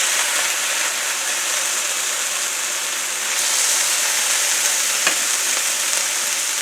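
Scrapple fries in a pan with a steady, dense sizzle and crackle throughout, close and loud, with an occasional sharper pop and no talking.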